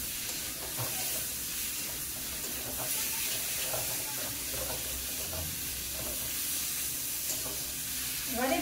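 Fried potatoes are stirred with spices in a pan for a spicy fish curry. A steady close sizzle runs throughout, with faint scraping stir strokes now and then and no speech.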